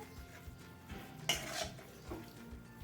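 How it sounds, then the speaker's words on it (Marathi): A spatula stirs soft semolina halwa (suji sheera) in a pan, a faint quiet scrape with one brighter metallic clink partway through, close and low in level. "बघा मी कालथ्याने मिक्स करते"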